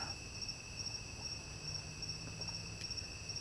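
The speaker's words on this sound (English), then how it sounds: "the crickets chirping" Crickets chirp steadily in a quiet outdoor night under a moonrise, a continuous high trilling with faint pulsing, no voices present.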